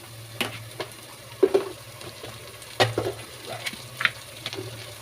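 Garlic and ginger paste frying in a pan with intermittent stirring scrapes and soft sizzling, close by, with faint background hum and no talk.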